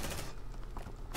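Rapid bursts of automatic gunfire from the Aliens: Dark Descent video game, a short dense fusillade with a brief pause, then firing again.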